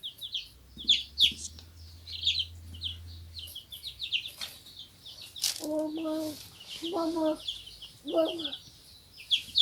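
Young chicks in a brooder box make high, quick peeping chirps in short bursts, with a few lower clucks partway through, all fairly close but soft, over a quiet background hum.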